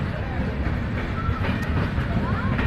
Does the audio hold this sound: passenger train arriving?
yes